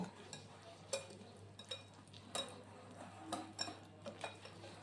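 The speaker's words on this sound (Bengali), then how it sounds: "সুজি দই আর নুন দিয়ে একসঙ্গে ফেটিয়ে আমি টেস্টে রেখে দেব" Semolina, yogurt and salt are beaten together in a bowl, giving faint, irregular scrapes and light clinks of the utensil against the bowl, soft and close with no talk.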